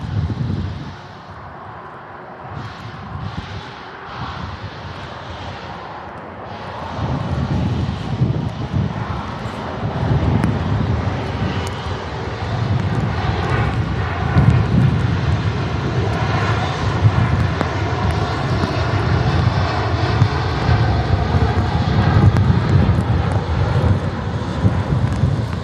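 An Aer Lingus Airbus A350 airliner passing Manchester Airport during a storm, its broad engine roar swelling after a few seconds and holding loud and sustained, mixed with gusty wind buffeting the microphone, with no talk.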